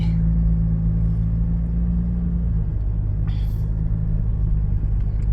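Toyota Fortuner four-wheel-drive SUV engine drones steadily at close range while driving in off a road, with a faint brief squeal partway through.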